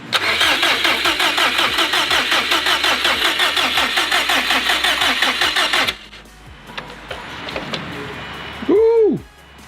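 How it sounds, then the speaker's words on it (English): A 2005 Subaru STI cranks with a rapid rhythmic starter whir for several seconds before the engine catches and settles into a lower idle, with a rising electric whine near the end. "I'm assuming it'll start nicely, because if it turns over rough, we'll hear something."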